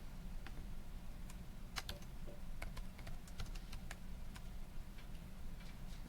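Fingers tap out numbers on a calculator keypad, a quiet, irregular run of light plastic clicks over a low background hum.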